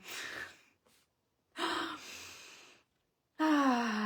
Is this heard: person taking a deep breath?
yes